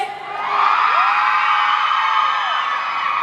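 A crowd of people at a Thai film press event scream and shriek together in a loud, sustained high-pitched wave that swells quickly and holds.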